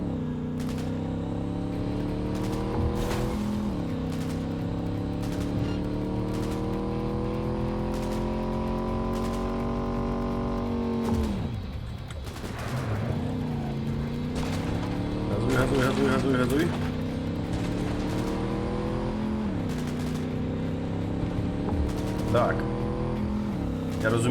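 Cars driving in the video game Cyberpunk 2077, with steady engine drone that rises and falls through gear changes and revs, under continuous talking throughout.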